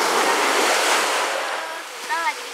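Ocean surf washes steadily onto Ampenan Beach, a broad, continuous roar of breaking waves close by that eases slightly toward the end, with a brief faint voice near the finish.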